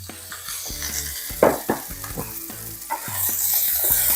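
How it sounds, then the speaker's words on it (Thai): Shrimp hits a hot pan of fragrant garlic and stir-fries with a steady loud sizzle, broken by repeated scraping and clanking strokes of a spatula against the pan. "กระเทียมเริ่ม หอมแล้วก็ใส่กุ้งลงไปครับ"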